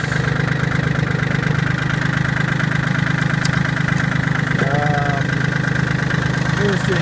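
A John Deere 770 compact tractor's engine idles steadily and close while the machine is put in reverse, a constant mid-pitched drone with brief faint mechanical clunks and a voice speaking over it.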